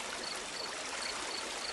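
A creek flowing beside a large field, a steady, continuous wash of running water held at an even level for the whole stretch, with no voices.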